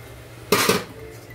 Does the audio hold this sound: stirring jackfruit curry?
yes